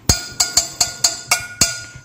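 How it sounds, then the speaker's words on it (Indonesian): A cup made from a tin can struck seven times, giving bright metallic clinks with short ringing decay, evenly spaced and close up. "Nah, ini gelas yang terbuat dari kaleng."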